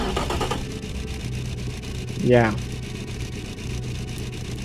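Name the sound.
inline-3 engine idling without mufflers, Automation video game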